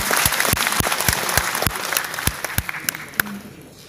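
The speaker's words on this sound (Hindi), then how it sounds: "तालियों की आवाज जरा आ नहीं रही है।" Audience applause at a Bhojpuri film industry event, a steady wash of clapping with sharp individual claps standing out, thinning toward the end.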